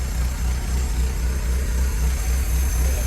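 A Willys MB military jeep engine runs at a steady idle just after its first start, with a low, even, throbbing rumble that stays close and constant throughout, no voices.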